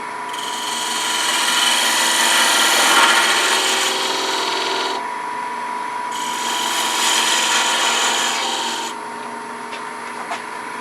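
A woodturning lathe tool cuts down the base of a wooden twig pot toward the part-off point, a loud steady rasping scrape in two long passes with a brief quieter gap between, no voices.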